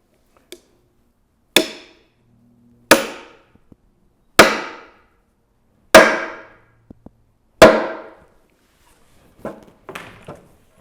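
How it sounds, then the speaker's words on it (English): A chair maker's double-faced framing hammer drives wooden wedges into a sack-back Windsor chair: five sharp, evenly spaced blows, each ringing briefly, followed by lighter taps, close and alone. "This is a chair maker's framing hammer."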